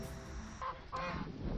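Farm geese, about to be fed pumpkin, give two short, faint honks a moment apart against quiet outdoor background noise.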